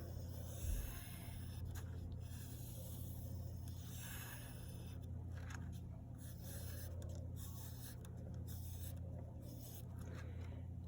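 A pencil scratches and rubs across paper while sketching a hardwood floor with a round rug, soft continuous strokes in short bursts with brief pauses, close and fairly quiet.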